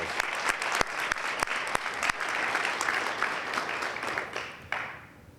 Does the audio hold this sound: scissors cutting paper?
no